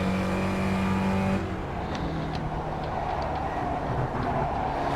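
An SRF race car in the iRacing sim drifting at Road Atlanta, with a loud engine drone that drops in pitch after a second or so, then a rougher, rumbling tone beneath faint tyre noise.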